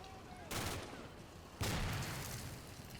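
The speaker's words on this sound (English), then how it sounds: "It's definitely small arms fire." Small arms fire in the video game Combat Mission, two sharp broadband bursts of gunfire about a second apart, each with a lingering rumbling tail over a low background.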